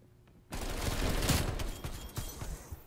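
Gunfire from an unsuppressed weapon in the video game Call of Duty: Black Ops Cold War erupts as a dense, rapid burst of shots that trails off into scattered reports, loud and close.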